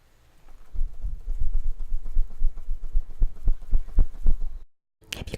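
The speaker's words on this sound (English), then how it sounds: "Now I'm just going to be drying myself with this fan" A small handheld fan blows air close to the microphone, giving a rough, rapidly fluttering low whoosh with a pulsing rhythm for several seconds before cutting out abruptly.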